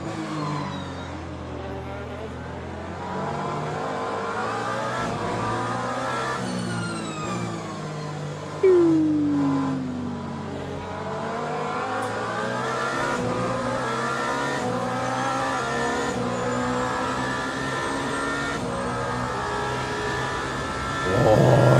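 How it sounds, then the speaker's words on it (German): A Porsche race car engine in the Le Mans Ultimate racing game drones and revs through gear changes, with pitch sweeping up and down across upshifts and downshifts, loud and continuous throughout. "Der Porsche klingt so gut."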